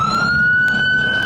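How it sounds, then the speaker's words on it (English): A fire department siren wails steadily in the background a few blocks from a downtown Phoenix homeless encampment, holding a loud, slowly rising tone. "those sirens right now that we hear in the background are literally the fire department"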